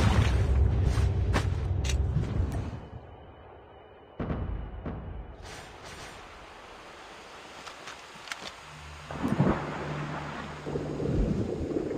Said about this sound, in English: Here too much raining.